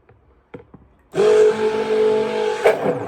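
Electric mixer switched on to blend honey cold process soap batter: a few quiet clicks, then a sudden loud, steady motor whine with a hum that holds to the end.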